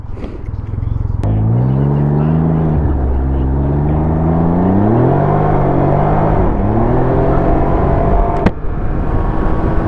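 A Can-Am Ryker three-wheeler drifts on a wet road on a cool, rainy day, its engine droning loudly and continuously with rising and falling pitch as it revs, with sharp clicks near the start and end.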